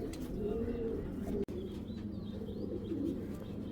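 Tournament-bred pigeons kept at a home loft coo in low, rolling phrases through most of the stretch, with faint chirps above and a brief break midway.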